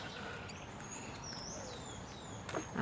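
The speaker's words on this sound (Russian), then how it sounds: "Тихо, птички поют." Small birds chirp and whistle in a quiet city park in Asunción, Paraguay, with thin high calls scattered over a soft steady background hum and a brief louder rustle near the end.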